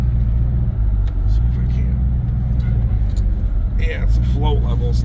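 A 1971 Dodge Polara rolls down the road with a low, continuous engine rumble inside the cabin, broken near the end by a few brief higher sounds.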